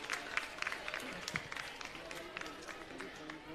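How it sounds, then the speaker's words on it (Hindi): An audience at a Delhi government school event claps to welcome education officials, a fairly faint but continuous spread of clapping with some voices mixed in. "एक बार जोरदार तालियों से हम सब मिलकर अभिनंदन और स्वागत करें।"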